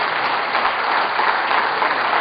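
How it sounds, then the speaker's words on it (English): A crowd at a district installation event claps for itself, a dense, even burst of applause held at full level throughout. "Let's give a clap to ourselves."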